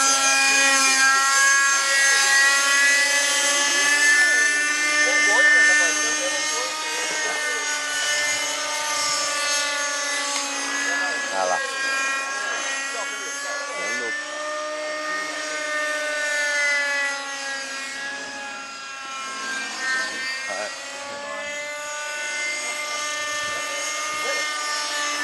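Radio-controlled model airplane engine at a model flying field in Bandeirantes, PR, a loud, continuous high-pitched buzzing whine that rises and falls in pitch as the plane flies past, with brief voices underneath.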